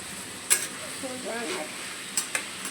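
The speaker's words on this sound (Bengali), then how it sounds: "এই দেখো এখন থোড় রান্নাটাও আমি বসিয়ে দিয়েছি" Banana stem curry cooks in a pan with potatoes, a soft sizzle broken by a few sharp clinks of a spoon against the pan, and brief faint background voices.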